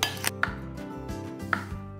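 Cooked potatoes being stirred into a potato salad dressed with mustard, salt and pepper in a bowl. A utensil clinks against the dish in a few sharp taps over a soft, even background.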